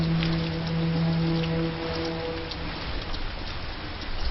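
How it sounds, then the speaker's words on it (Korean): Steady rain pours down in a dense, continuous hiss of falling drops, close and fairly loud, with a low rumbling undertone and no voices. "결국 구름에서 비가 처음 내릴 때 하나의 커다란 덩어리였더라도 바닥에 닿을 때쯤엔 우리가 아는 비로 바뀐다는 말이죠."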